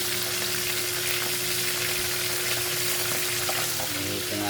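Fish fries in a pan, a loud, dense, unbroken sizzle held close up with a faint steady hum underneath throughout.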